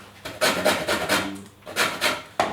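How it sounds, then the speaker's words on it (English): Lemons are zested on a grater for lemon and raspberry cupcakes, making rhythmic close rasping strokes that come in short bursts with brief pauses between them. "Definitely going to need zest of 2 lemons here."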